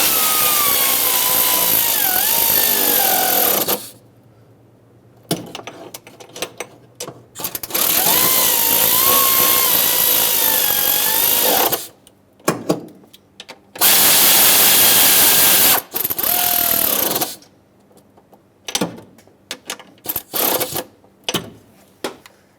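A power tool whirs in loud bursts of several seconds each, tightening the bolts on the coolant temperature sensor housing of a 2008–2010 Ford F250 Super Duty 5.4L V8. The runs are separated by short pauses and quick shorter pulses.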